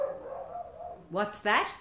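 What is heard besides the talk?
dog barking outside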